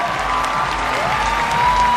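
Pageant audience at Miss Universe Thailand 2024 applauding loudly with some cheering, a dense wash of clapping over background stage music.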